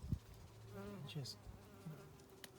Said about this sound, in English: That is, again, just covered in bees.